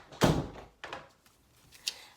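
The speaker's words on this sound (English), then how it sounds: "Close the door." An indoor door shuts with one solid, close thunk, followed by a couple of softer knocks and faint rattles in an otherwise quiet room.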